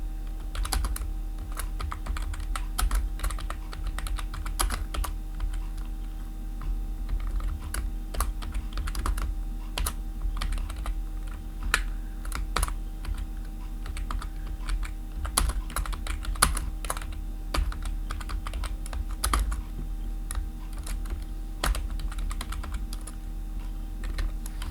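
Steady typing on a computer keyboard while entering data into an Excel spreadsheet, with a continuous run of light key clicks under a low background hum and no talk.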